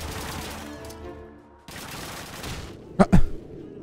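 After a stretch of low battle ambience, a short volley of sharp, loud gunshots bursts out near the end in the Matmata level of the video game Call of Duty 2.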